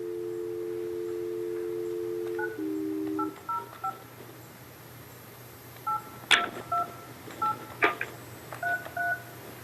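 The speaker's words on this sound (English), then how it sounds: "let me place the phone call" A telephone emits a dial tone, then a string of DTMF keypad beeps in short irregular bursts as a call is placed from a city council meeting, clear and fairly close over a steady low hum, with no talking.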